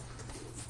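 A pigeon or dove cooing amid a dense, steady background wash, the soft call brief and partly buried, heard during a stormy day.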